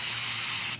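Mass airflow sensor cleaner sprayed from an aerosol can at a Toyota Tundra 4.7L's sensor, a steady, loud, close hiss lasting under a second before cutting off.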